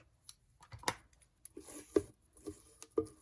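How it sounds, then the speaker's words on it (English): Paper snips cut through gift-box ribbon with a few sharp, quiet clicks spaced about a second apart, mixed with soft rustling handling noises in a quiet room. "Just snip that off with my paper snips"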